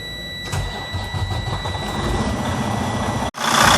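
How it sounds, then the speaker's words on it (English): Freightliner Cascadia truck with a Detroit DD13/DD15 diesel engine cranking and catching after water pump replacement, settling into a steady rumbling idle under a high electronic whine, then a brief dropout before the idle resumes louder. "If there is no coolant leaks, I'm going to start the engine."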